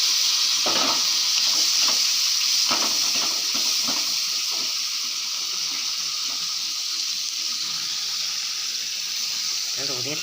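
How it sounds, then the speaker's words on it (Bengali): Fish sizzles steadily in hot oil, a continuous bright crackle with a few louder stirring clatters near the start, heard up close with no talking. "আর মাছের তেলটা ভেজে নিই।"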